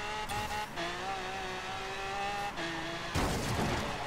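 An Audi R8 skids in the Forza Horizon 3 racing game, its engine droning in steady, rising tones that shift with a gear change before a harsher, noisy burst near the end.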